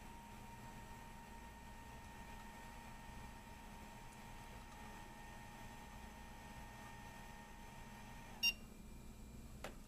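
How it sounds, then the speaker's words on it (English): A vintage NEC Versa VXi laptop gives a single short, faint startup beep late in the clip, over a quiet steady hum with faint tonal whine. "it's one of the few I've ever had that actually has a post beep"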